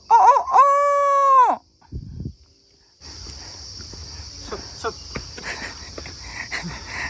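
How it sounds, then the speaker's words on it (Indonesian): A jungle fowl on a mountain gives a loud, sustained crowing call near the start, followed by quieter shuffling and steady insect chirring in the background. "Nah itu suara ayam hutan tuh."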